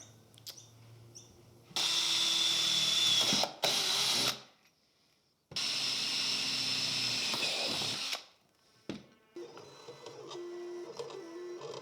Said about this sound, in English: then I can actually drill from the back because the holes are already pre-drilled on the screen